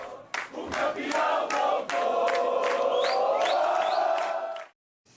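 A large crowd of football supporters in Chapecó, Brazil, roars and chants in unison, loud and sustained, with rhythmic shouts and whistles rising over the din before it cuts off abruptly.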